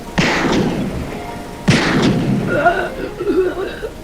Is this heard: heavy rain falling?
no